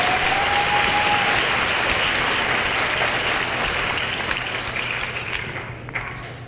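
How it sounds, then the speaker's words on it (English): Sustained applause fills a graduation ceremony for adult education graduates following a speech, a dense steady wash of many hands clapping that holds loud and then eases slightly toward the end. "How about another round of applause?"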